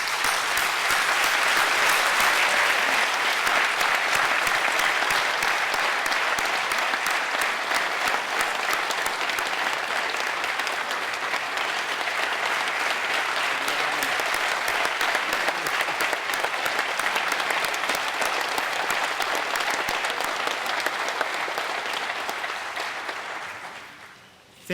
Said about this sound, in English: let's stand and join me in a round of applause for your faculty